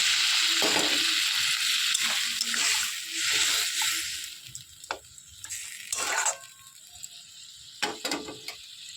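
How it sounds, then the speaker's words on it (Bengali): Water poured into a pan of puti fish curry with green tomatoes, a steady hissing sizzle with clinks and scraping of utensils, close and fairly loud, with occasional faint voices. "জল দিয়ে দিয়েছি"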